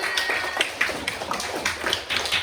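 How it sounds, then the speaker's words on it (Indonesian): A classroom of students applauding at the end of a lesson, a dense patter of many hands clapping steadily and close by throughout, with no talk over it. "Beri tepuk tangan semuanya."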